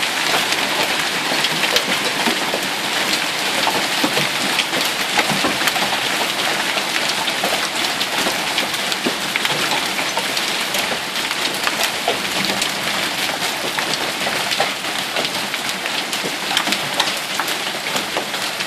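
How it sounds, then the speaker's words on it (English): Large hailstones the size of marbles and ping pong balls pelt down in a dense, unbroken roar, hard hits crackling and pinging on surfaces continuously throughout, with no voices. "That is marble, the ping pong ball style is hail."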